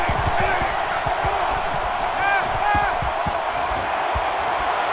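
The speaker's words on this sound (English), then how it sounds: "The crowd really making it difficult." Stadium crowd roar in NCAA Football '14 during a Penn State game, a steady dense wash of cheering and noise with a few whistle-like tones rising out of it, under a commentator's voice.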